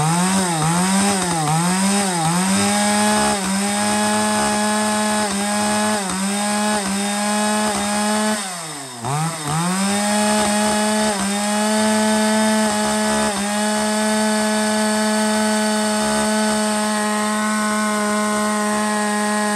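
A used petrol chainsaw, a B7 model from a Japanese lot, runs loud and close, its engine revving up and down in repeated surges before settling into a steady high idle.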